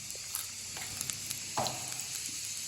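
Tempering seeds hit hot oil for an ivy gourd chutney, giving a quiet, steady sizzle with a few small pops and one brief louder crackle, with no talk.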